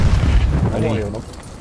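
A grenade goes off in the Post Scriptum video game, a loud, deep boom at the start that decays into a rumble, with a voice talking over it.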